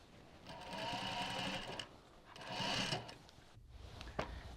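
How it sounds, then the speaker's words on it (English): A sewing machine stitching with a long stitch around the edge of a rucksack: two steady whirring runs of rapid needle clatter with a short pause between, close and moderately quiet, then a few handling clicks. "firstly I'm just going to sew kind of around the edge of the bag to hold everything in place"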